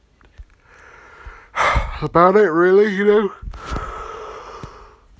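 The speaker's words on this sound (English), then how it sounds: "I keep yawning" A man gives a long, drawn-out, voiced yawn with a wavering pitch, between short stretches of his own speech.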